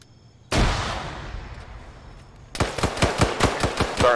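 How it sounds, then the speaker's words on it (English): A video game grenade explodes with a sudden loud blast that decays over about two seconds, then rapid automatic gunfire rattles in a steady burst of close, sharp shots. "That grenade landed right next to me."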